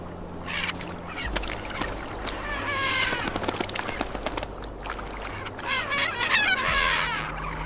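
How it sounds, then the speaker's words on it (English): Ivory gulls give repeated harsh, squealing calls over Arctic ice floe edges, several birds near and far overlapping in irregular bursts above a steady low rumble. "Ivory gulls search the floe edges for scraps and openings."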